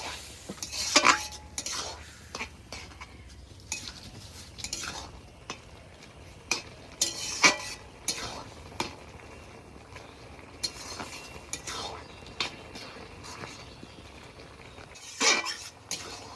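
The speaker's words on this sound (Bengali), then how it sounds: "ম্যাগি মশলাটা দিয়ে দিয়েছি এবার একটু নেড়ে চেড়ে নেব" Maggi noodles with masala stirred in a pan, a spatula scraping and clinking against the metal in scattered strokes, with a few sharper knocks around the middle and end; no talking.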